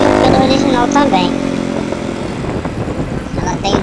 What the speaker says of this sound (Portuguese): Dá para ouvir mais o barulho do câmbio do que do motor praticamente.